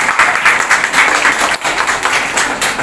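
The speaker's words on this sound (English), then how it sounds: "So, a big round of applause for both of them." A crowd claps steadily for the participants of a U7 West Bengal state-level chess championship, a dense, continuous patter of many hands at close range with no pause.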